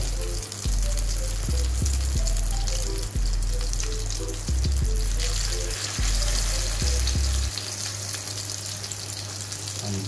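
Salmon potato patties frying in hot oil, giving a steady loud sizzle with intermittent low thumps and bubbling bursts as they settle in the pan.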